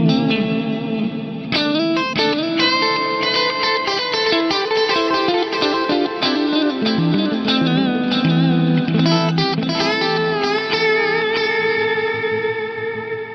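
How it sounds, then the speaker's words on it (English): Guitar played through upfront delay whose repeats sit prominently behind each note, with a subtle reverb wash filling out the sound; sustained chords and single notes ring on and overlap, steady and loud, with no talking. "my delays are very upfront in this case, and the reverb is a subtle wash."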